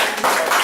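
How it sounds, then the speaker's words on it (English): An audience at a Gbanja camp gathering in Liberia claps for youth coordinator Ellis Briggs; dense, steady clapping fills the short moment, close and fairly loud. "Clap for him."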